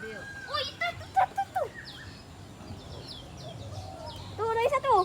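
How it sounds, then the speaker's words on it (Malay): Birds at KL Bird Park, hornbills among them, give chirps and whistled calls, clustered at the start and again near the end, with visitors' voices heard in the background. "sekarang kita ada dekat burung lagi"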